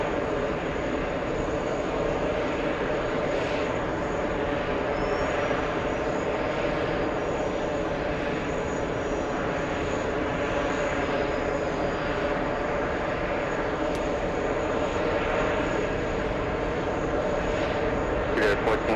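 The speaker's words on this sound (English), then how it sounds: "That's the British Airways 777 flying back to London." A British Airways Boeing 777 jet flies overhead on departure, a steady, loud broadband engine roar that holds unchanged for the whole stretch, with faint radio chatter and voices mixed in beneath it.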